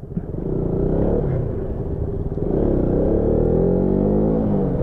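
A racing motorcycle pulls away from a green light, its engine note rising as it accelerates, loud and continuous with a deep rumble close by.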